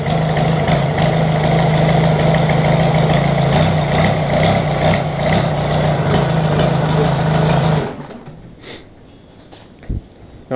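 A Cummins 4BT diesel engine swapped into a Chevy K1500 runs at a loud, close, rough idle with a steady low clatter for about eight seconds, then shuts off, leaving faint knocks and handling noises.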